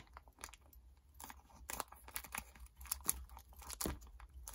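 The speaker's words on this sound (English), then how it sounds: "So I don't think I've got any loose spare buffers, so I'll just open up this packet." A small plastic packet of spare model train buffers being cut and torn open with scissors, soft crinkling and snipping at close range, quiet and intermittent.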